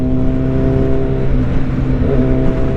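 A 2024 25th Anniversary Suzuki Hayabusa motorcycle engine drones loud and steady under hard acceleration, with sustained engine harmonics and subtle quick-shifter gear changes through the run, no voices.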